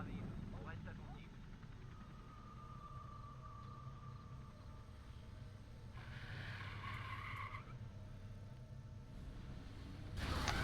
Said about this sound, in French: Ah bah voilà, voiture kamikaze